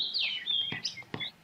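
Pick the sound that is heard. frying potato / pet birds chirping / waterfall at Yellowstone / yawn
pet birds chirping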